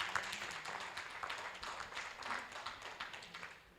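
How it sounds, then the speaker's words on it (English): Applause from an audience at a career summit panel discussion, a soft, fairly distant patter of many hands clapping steadily for a few seconds. "Can we have a big round of applause, ladies and gentlemen?"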